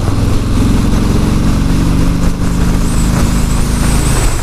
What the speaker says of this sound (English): the bike does have a little bit more of a grumble to it than the 2017s did